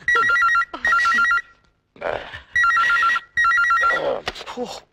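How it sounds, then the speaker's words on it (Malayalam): A telephone bell rings in three trilling bursts, loud and close, with brief voices and rustling in the gaps between rings. "phone phone"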